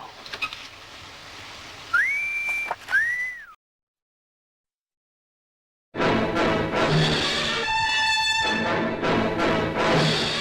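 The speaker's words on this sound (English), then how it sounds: "You know how to whistle, don't you" A person whistles two short rising-and-bending notes, then falls silent. After the pause, a louder melodic whistled phrase with a clear, sustained tone plays over a busy background.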